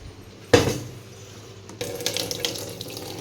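Water from a tap pours into a filter jug in a village home, a sudden gush that settles into a steady filling rush with light splashes, close and alone.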